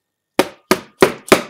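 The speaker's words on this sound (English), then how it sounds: "gently, but firmly hammer this back into place" A mallet strikes four evenly spaced, sharp, close knocks, driving an electric skateboard's flywheel pulley insert into place through a folded cardboard pad laid over the pulley teeth.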